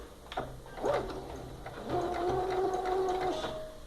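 A sewing machine running a seam along a zipper on a fabric toiletry bag: a short burst, a brief pause, then a longer steady mechanical whir of stitching, close and clear with no voices.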